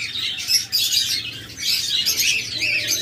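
White doves and other birds chirp continuously in a busy chorus, bright tweets overlapping at close range over a low steady background hum, no voices.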